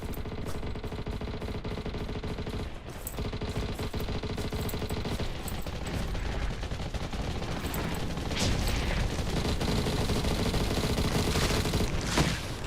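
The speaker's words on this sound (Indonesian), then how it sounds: "Ngapain mereka masih nembakin?" Continuous gunfire in the Undawn shooter game, rapid automatic bursts and scattered shots over a steady engine-like rumble, dense and unbroken from start to finish.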